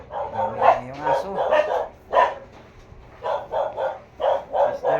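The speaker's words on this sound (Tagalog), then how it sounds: "Yung aso." A pet dog barks in a quick run of sharp yips, then pauses and barks in another cluster. The barks are close and loud in a quiet indoor room at night.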